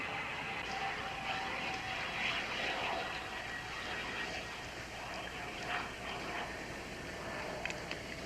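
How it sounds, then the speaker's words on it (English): A distant airplane engine drones steadily and faintly throughout, a continuous broadband hum under ambient noise as the aircraft approaches, with no speech. "It's a weird sound. Sort of like an airplane."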